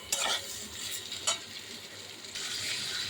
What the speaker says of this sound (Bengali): গরম মশলা, পাঁচফোড়ন, শুকনো লঙ্কা সব কিছু দিয়ে পেঁপেটা আলুটা ভাজা করছি